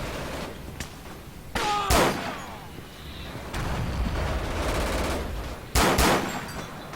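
Rifle fire in the World War II video game Forgotten Hope 2: a few loud cracks and bursts amid a rumbling battle ambience, with distant shots and crackle between them.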